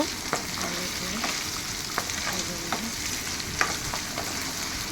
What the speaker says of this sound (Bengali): এবার আলুগুলোকে 2 মিনিটের মতো একটু হালকা করে ভেজে নেব